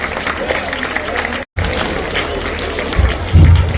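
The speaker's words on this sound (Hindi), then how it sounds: "मुझे उम्मीद है आपकी जोरदार तालियां इसकी तारीफ फरमाएंगी" Audience applause at a school annual day function, dense steady clapping from a crowd with a brief cut in the middle and a louder low thump near the end, voices faintly underneath.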